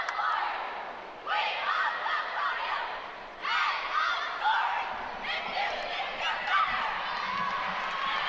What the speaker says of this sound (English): Crowd encourages them to continue on.